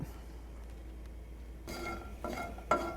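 Pecans toasting in a pan and being stirred, heard as faint, intermittent scraping and rattling bursts that start partway through after a quiet, hissy stretch.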